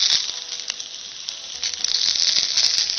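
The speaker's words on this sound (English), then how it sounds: "You can probably hear them sizzling." Steady, bright sizzling of raw sausages frying on a hot griddle over a twig-fired rocket stove, a constant hiss with small crackles and pops, close and fairly loud.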